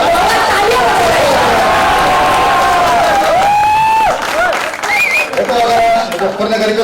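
A crowd at a Hindi comic poetry event at Ramjas College, Delhi claps and cheers steadily throughout, with a voice ringing out over the dense, continuous applause.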